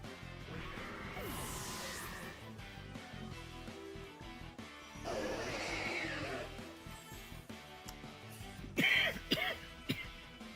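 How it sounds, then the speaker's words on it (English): A few sharp throat-clearing coughs near the end, set against a busy Pokémon Scarlet and Violet battle soundtrack with music and effects. "I'm sorry for the cough."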